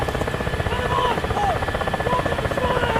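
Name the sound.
radio playing a WAV file in DCS World Ka-50 video game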